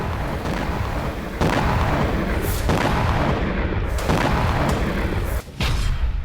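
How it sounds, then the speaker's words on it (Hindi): Explosions from attacks on refugee camps in Gaza, heard as a continuous loud, dense rumble broken by several heavy booming impacts at irregular intervals, with no speech over it. "मकजी रिफ्यूजी कैंप में भी कई धमाके हुए।"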